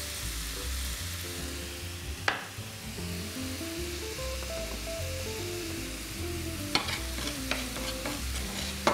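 Whole spices, black peppercorns and a few cloves, fry in a pan and are stirred, giving a steady close sizzle with scraping stir strokes and a few sharp clicks of the utensil against the pan.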